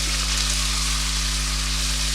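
Ginger-garlic paste sizzles in hot oil with onions over lowered heat, making a continuous, even frying hiss at close range under a steady low hum, with no talking.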